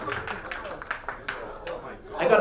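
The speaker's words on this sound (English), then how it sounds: "give yourself a round of applause" A roomful of professional speakers at a training session claps for themselves, a short, fairly quiet patter of hands that comes in uneven bursts, with voices and chatter mixed through it.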